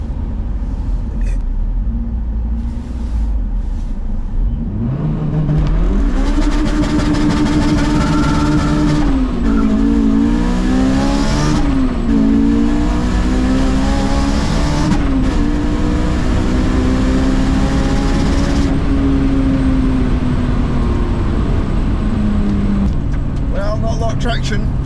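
A supercharged Honda S2000 launches down a damp airfield runway on a quarter-mile run, its engine climbing hard through several gear changes for about twenty seconds, loud and close, with brief dips between shifts before easing off.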